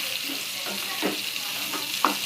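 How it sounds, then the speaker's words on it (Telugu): Onions and green chilies sizzle steadily in a pan for a chicken and broad bean curry, with a few soft stirring scrapes breaking through the constant crackle. "ఉల్లిపాయ, పచ్చిమిరపకాయలు కూడా వేగిపోయాయండి."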